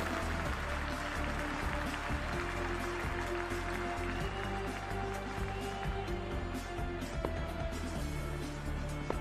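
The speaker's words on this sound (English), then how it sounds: "The crowd is deafening at the moment." A cricket stadium crowd roars and claps continuously before a T20 World Cup match between West Indies and Afghanistan, a dense, loud wall of cheering with horns and whistles mixed in.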